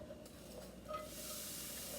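Steady broadband sizzle of onions and peppers in a hot pan, a continuous hissing frying sound with a soft bump partway through, no talking.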